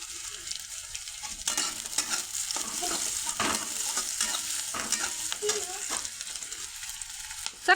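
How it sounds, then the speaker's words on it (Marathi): Onion sautés in hot oil with cumin and mustard seeds, a bright crackling sizzle broken by repeated quick scraping strokes of a spoon in the pan. "जिरी मोहरी टाकून घेते पटकन."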